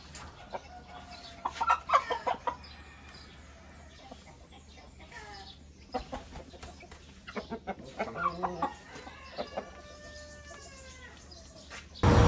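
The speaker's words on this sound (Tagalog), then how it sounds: "Nilapag ko na rin ang ating mga shamo para mag-breeding." Shamo gamecocks and hens in a breeding pen, giving bursts of clucking and rooster calls at close range, with quieter gaps in between.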